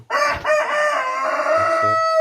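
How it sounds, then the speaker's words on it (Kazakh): A rooster crows loudly and close by in one long drawn-out call, with hens clucking low beneath it in a backyard flock kept through winter. "Тауықтарымыз осы."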